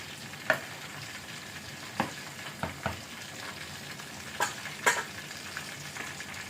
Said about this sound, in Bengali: কষিয়ে কষিয়ে রান্না করতে হবে